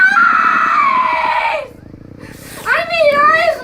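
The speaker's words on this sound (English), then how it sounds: "keep on screaming and yelling" A child screams and yells loudly at high pitch, one sustained shriek followed after a short pause by another rising, wavering yell, close to the microphone indoors.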